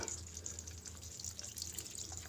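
Water runs steadily from a tap while being fetched for a frog farm, a faint, continuous trickle with light splashing and drips and no voices.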